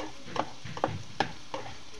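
Garlic, onion and dried shrimp frying in a pan, with a soft steady sizzle broken by four distinct stirring scrapes spaced across the moment, close and moderately quiet, with no talking.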